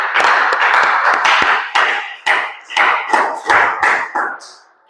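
A church congregation claps together to acclaim the Lord during a French-language worship service, a loud, dense run of hand claps in rough rhythmic bursts that fades at the end.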